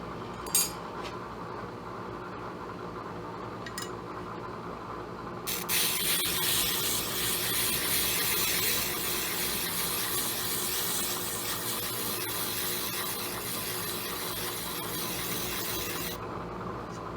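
A slow-speed grinder switched on for its first run, a little WD-40 applied, spins up with a steady broadband whirring rasp that holds evenly for about ten seconds before cutting off, with faint tapping beforehand.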